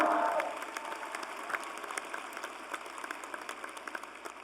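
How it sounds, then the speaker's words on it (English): A commencement audience claps for a college symphonic band, starting as a fuller wash that thins into scattered, distinct claps fading over several seconds, heard at a distance in a large hall. "Let's give them a round of applause as well."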